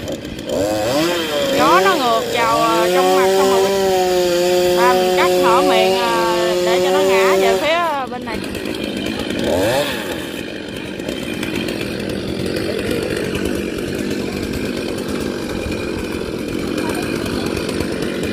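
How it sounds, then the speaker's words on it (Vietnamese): A chainsaw revs with rising and falling whines, then settles into a rough, steady cutting roar through a royal palm trunk; a voice speaks over the start. "Bây giờ ba mình sẽ lấy cái máy lớn hơn để cưa."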